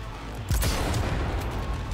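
Cyberpunk 2077 gunfire: a loud booming volley opens abruptly, then settles into a sustained rumbling roar of shots and echo without any speech.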